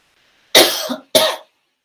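Two harsh coughs close to the mic, the first longer and rougher, the second short, with silence around them.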